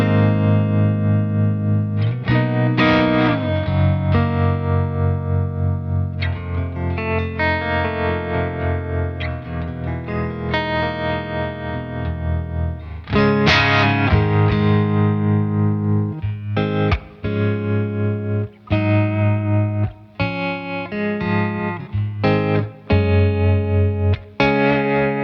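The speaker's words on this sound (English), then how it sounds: "So this is how amplitude tremolo would sound." Electric guitar through a Jam Pedals Harmonious Monk pedal set to amplitude tremolo, sustained distorted chords and notes pulsing louder and quieter in steady waves, played alone and up close.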